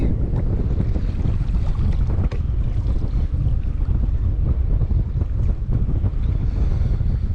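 Steady wind roars across a boat anchored on San Carlos Bay, Florida, with gusty microphone buffeting and faint water lapping underneath throughout, no voices.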